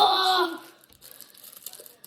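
Card pack wrapper being cut open with scissors: a short burst of crinkling, slicing plastic in the first half second, then near silence with faint rustles.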